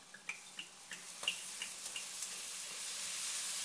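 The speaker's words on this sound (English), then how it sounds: "To that, I'm going to add my 1 cup of red wine." Red wine poured into a hot pot of browned beef for stew, a sharp sizzle at first with several crackling pops, then rising into a steady loud hiss of liquid boiling against the metal.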